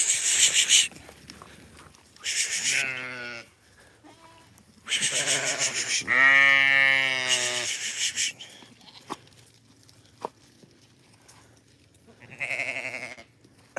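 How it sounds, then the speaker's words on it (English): Goats on a farm at evening bleat loudly and close by in several long, wavering calls, with quieter gaps and some faint shuffling between them. "Last goat. Come on. Come on, goat."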